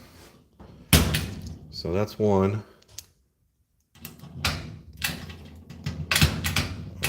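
A key is worked into the lock of a newly built Letaya cabinet door, giving sharp metallic clicks, rattles and knocks in short bursts while someone talks nearby.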